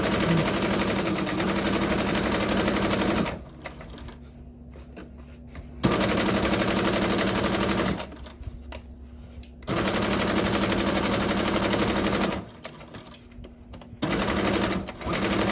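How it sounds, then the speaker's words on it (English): Sewing machine stitching elastic onto a fabric skull cap, rapid loud mechanical chatter in three bursts separated by short quiet pauses. "curling as you sew"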